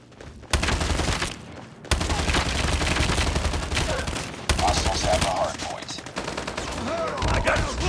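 Rapid bursts of video game gunfire from a first-person shooter with the HG-40, loud sustained volleys broken by brief gaps, with no talk over it.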